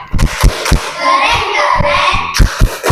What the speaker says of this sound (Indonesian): Yuk kita beri tepuk keren.